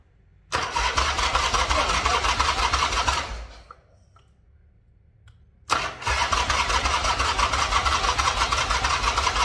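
A Triumph motorcycle engine on full choke is cranked by its electric starter in two long bursts, a loud steady whir for about three seconds, a pause, then a second cranking run to the end, with no catch.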